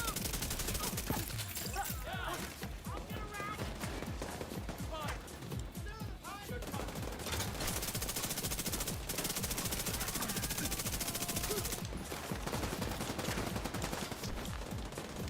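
Rapid automatic gunfire in The Division 2 video game rattles in dense, continuous bursts with brief gaps, while a voice talks over the shooting.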